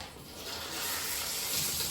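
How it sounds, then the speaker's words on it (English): A handful of water poured onto hair already coated in conditioner during a wash, giving a steady, close splashing hiss that runs unbroken for two seconds with no talking. "just like a handful of water and adding that to the conditioner that's already in my hair"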